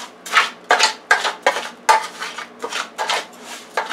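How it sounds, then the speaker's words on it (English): Spoon scraping and clinking against a pot while powdered broth is stirred into rice for yellow vegetable garlic rice, a steady series of about ten close, even strokes with no voices. "now we're going to mix this up, the powdered broth, into the rice"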